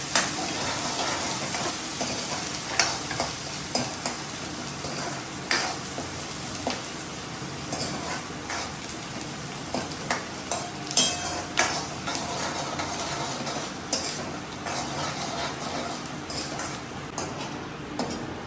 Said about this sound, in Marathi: आता मी कांदा सोडते. कांद्याला छान भाजून घेते.